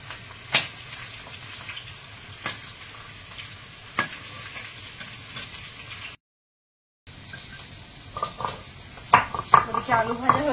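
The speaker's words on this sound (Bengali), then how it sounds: "ওদিকে আলু ভাজা হচ্ছে" Potatoes fry in a pan in a home kitchen, with a steady close sizzle, sharp stirring clanks every couple of seconds and busier clattering toward the end. A voice is heard at times.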